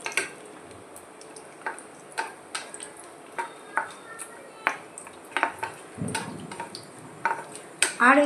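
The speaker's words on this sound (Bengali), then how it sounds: "তো আমি দুটোকেই দিয়ে দিলাম এখানে। এটা জাস্ট একটু সটে করে নেওয়ার জন্য" Cashews and raisins sautéing over a very low gas flame, with repeated clinks and scrapes of a spoon against the pan at a steady rhythm. A soft sizzle runs underneath throughout.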